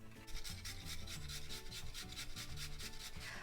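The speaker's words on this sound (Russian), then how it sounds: "А теперь я натру кабачок на свекольной терке." Young zucchini rubbed against a beet grater, producing a steady run of rhythmic rasping strokes, close up and fairly quiet, with no talking.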